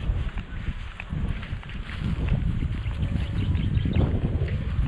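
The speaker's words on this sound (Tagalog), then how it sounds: "Ganda ng panahon, mahangin." Wind buffets the microphone in a steady, low rumble with gusty swells, close and fairly loud, with faint rustling underneath.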